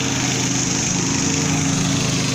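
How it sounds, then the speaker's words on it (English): A lawn mower engine drones steadily and loudly throughout, a constant buzzing hum with no pauses and no talking. "it's gonna get loud because he's out mowing right now."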